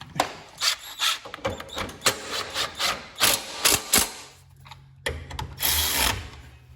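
A wrench ratchets and clicks while bolts on a John Deere transmission bracket are tightened, giving a series of close, uneven rasping strokes with brief pauses, and a low hum in the background.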